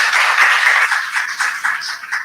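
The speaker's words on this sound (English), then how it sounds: "Can we also give her another round of applause?" An audience at a women-in-research dialogue gives a burst of applause. Many hands clap densely and fairly loudly, and the sound tapers slightly over a couple of seconds.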